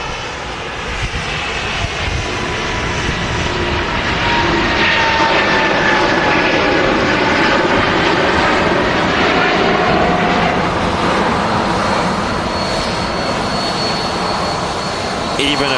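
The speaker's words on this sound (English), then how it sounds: "Even over the loud sound of that 737 taxiing past" A Boeing 737 jet taxiing past at Manchester Airport, a loud continuous engine roar and whine that fills the whole stretch, close by, with a voice talking faintly beneath it.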